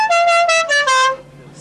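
A car horn at a 2002 4x4 off-road rally in Lizaki sounds several loud, close honks in a quick rhythmic sequence with a melodic multi-tone pattern, then stops.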